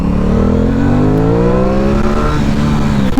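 A loud 2021 Aprilia Tuono 660 midweight motorcycle engine revving up close, pitch climbing steadily as it accelerates, then dropping off briefly at the end.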